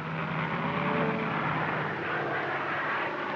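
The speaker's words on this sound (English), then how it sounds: "That airplane noise might stampede them." A propeller airplane drones steadily overhead, a continuous engine hum with no voices.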